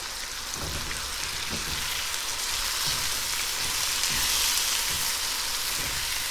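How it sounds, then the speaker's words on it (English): Noodles tossed in a hot pan sizzle in a steady, close frying hiss, with a few soft bumps and stirring clatters rising through the constant crackle. "let's just give everything a toss. Try to get these noodles coated"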